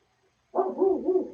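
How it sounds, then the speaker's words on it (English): An indoor dog, worked up by someone passing upstairs, suddenly starts a sustained, muffled bark-growl after a short silence, moderately loud and wavering. "Apparently there's somebody going by upstairs because the dog's all worked up"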